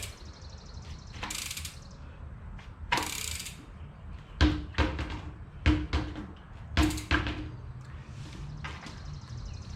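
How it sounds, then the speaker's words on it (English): A bicycle wheel spins freely to spread tubeless tyre sealant inside the rim, giving several bursts of mechanical ratchet-like clicking with sharp close knocks between them, and no talking. "spin it. That way you really spread that sealant around so the whole inside of that rim and wheel get covered."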